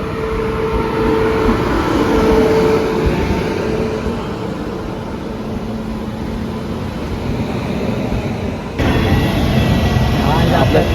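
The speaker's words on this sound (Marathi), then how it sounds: "आपली ट्रेन आले आहे" A loud, continuous rumble of a heavy Jan Shatabdi train rolls through, with people talking over the roar of the station at Panvel, Mumbai.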